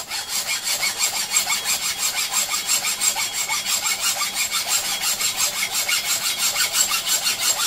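A hacksaw cuts a brake pad held in a vise, making a loud, close, even rhythm of rasping back-and-forth strokes that runs without a break.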